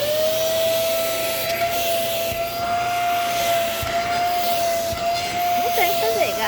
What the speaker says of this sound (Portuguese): hoje é dia de aspirador